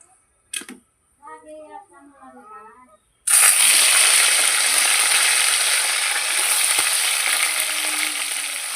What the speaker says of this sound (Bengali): তেলও গরম হয়ে গেছে মাছটা দিয়ে দিই